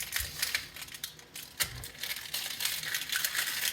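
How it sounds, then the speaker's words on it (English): Knife blade chopping onions on a cutting board, a few crisp chops and cuts at irregular spacing, close and fairly quiet with no talk. "I'm going to go ahead and cut my onions"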